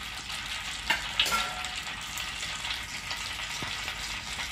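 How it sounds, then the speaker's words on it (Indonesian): Ham fries in a pan over high heat, a steady close sizzle with a few sharp pops and brief stirring scrapes, no talking over it. "Kita pakai api besar aja goreng."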